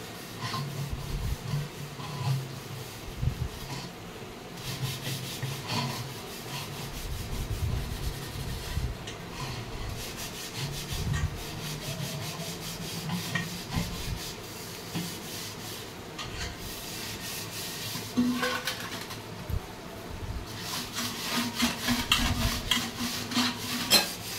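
Copper pots being scrubbed clean by hand, a steady rough rubbing and scouring with occasional metallic clinks, continuous and close throughout with no talking.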